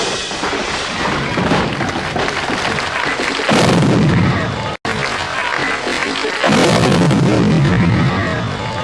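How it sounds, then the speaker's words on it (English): Cherry bombs go off inside a drummer's kit as a band ends a song live, with loud booming blasts in a dense roar of music and crowd and a sharp cut midway. "no one knew about the amount of cherry bombs that he put in his drum kit"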